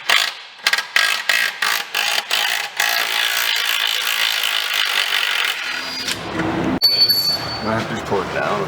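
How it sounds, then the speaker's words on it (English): A ratchet wrench works rusted bolts loose on an Infiniti G35, giving a quick series of sharp ratcheting clicks, then a steadier mechanical whir that ends with a brief high squeal, all close up. "These bolts are a little bit rusted, so we're gonna have to extract those guys."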